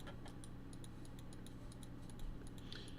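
Quick, light computer mouse clicks sound while a fantasy map is drawn, mountains included. The small, close ticks come in an irregular, fairly rapid series over a quiet background hum, with no speech.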